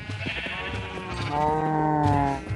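Sheep bleat on a farm, their wavering calls rising and overlapping across the stretch at close range, with other livestock noise mixed in.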